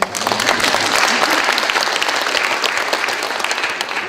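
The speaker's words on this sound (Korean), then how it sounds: "이럴 때도 박수 하시는 거예요" A church congregation at a Tacoma Presbyterian missions report bursts into loud, close applause that swells quickly and holds as a dense round of clapping before easing slightly toward the end.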